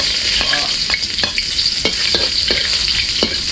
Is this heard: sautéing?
yes